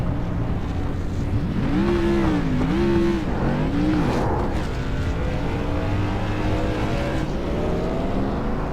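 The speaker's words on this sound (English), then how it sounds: "a little victory burnout from the 23 of Peterson" Race car engine roaring and revving through a victory burnout at New Smyrna Speedway after a CRA modified race, loud and sustained with rising and falling pitch swoops against crowd and track ambience.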